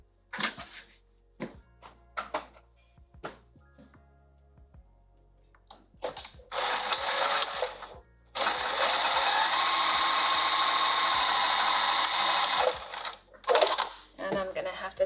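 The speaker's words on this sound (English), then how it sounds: "let's sew from here to here" A sewing machine stitches a lined dress bodice, with short bursts of mechanical whirring and clicks early on, then a long steady run of stitching, close and fairly loud, with small handling noises between.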